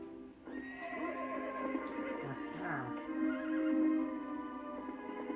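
A horse whinnies loudly with a long, wavering neigh, then snorts, over faint hoof clip-clops in the video game Lego Indiana Jones; a man briefly murmurs.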